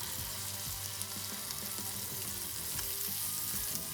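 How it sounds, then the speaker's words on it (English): A seasoned scallop sears in a hot oiled pan with a loud, continuous close sizzle and crackle that holds steady throughout. "it's important we get a hot pan for this because we want to give it a nice sear caramelisation"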